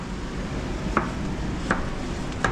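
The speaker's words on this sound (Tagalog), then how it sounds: "Gagayat na ng mga sibuyas, luya, sili, pipino para dito sa kinilaw na panigid." Onions, ginger, chili and cucumber being sliced for kinilaw na panigid, with a few sparse knife strikes on a board over a steady background hiss.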